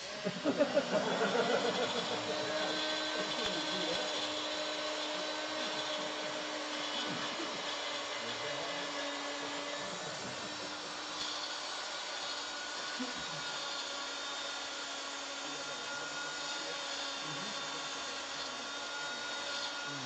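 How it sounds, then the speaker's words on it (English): A wood lathe turns a thin-walled footed vessel, its motor giving a continuous steady whine and hum throughout, close and fairly loud with no break. "I was gonna turn the lathe on"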